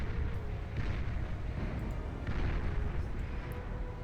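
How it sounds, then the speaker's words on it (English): Arbiter units in the strategy game Beyond All Reason launch high-arc missiles, making a continuous heavy rumble of launches and booms, with a few swelling blasts that sound somewhat distant. "Arbiter's firing away up onto this hillside, launching those high arc missiles"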